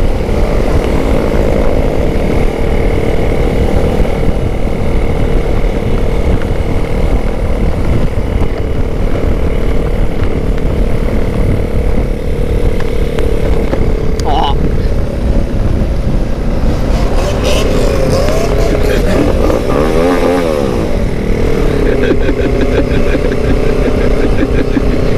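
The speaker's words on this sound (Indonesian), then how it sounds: "Geber-geber mobilnya." A car engine runs loud and close throughout, with a rumbling idle that swells into brief revs near the end.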